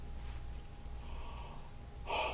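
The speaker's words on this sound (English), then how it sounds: "Just simulate a yawn." A person simulates a yawn as a vocal exercise, with soft breathy airflow and a sharper, brighter gasp-like intake at the end, close and quiet with no words.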